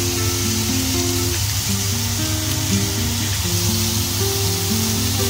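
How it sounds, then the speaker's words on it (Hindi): Marinated chicken sizzling on a grill with oil, a loud continuous hiss and crackle of frying without pause, with a low tonal hum running underneath. "तो ये चिकन ग्रिल हो रहा"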